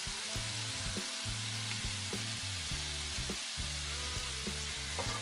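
Sweet chili sauce and soy seasoning sizzling in a hot pan for a tofu stir fry, a steady bright hiss with faint rhythmic clatter of stirring, no voices.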